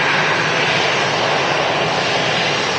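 EasyJet airliner jet engines at Manchester Airport, a loud, steady broadband roar that holds unchanged through the short stretch without talk.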